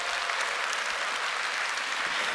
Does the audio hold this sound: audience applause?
yes